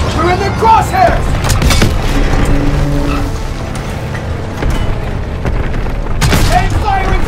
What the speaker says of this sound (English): Tank firing from our right.